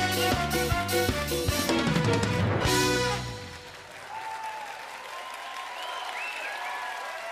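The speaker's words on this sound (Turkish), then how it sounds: "Alkışlarla radyo geliyor." Studio audience on a Turkish TV talk show breaking into applause, loud and full at first alongside music, then thinning to lighter scattered clapping as a background hum lingers.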